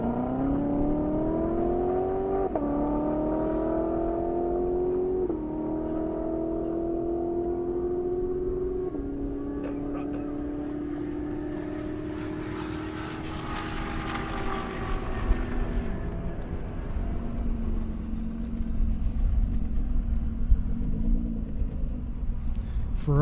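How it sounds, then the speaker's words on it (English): A Ferrari F Spider hot laps on an airport airstrip at a half-mile drag event, its engine note rising and falling in sweeping tones through gear changes and building to a loud roar as it passes, with a commentator talking over it. "Ferrari hot lapping it"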